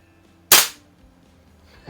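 A single sharp crack from an eighty-year-old pistol fired at a target, loud and close with a quick decay, followed by the start of another shot at the very end.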